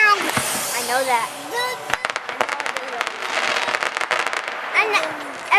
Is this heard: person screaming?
no